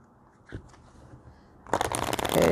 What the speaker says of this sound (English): we want to get this good and shuffled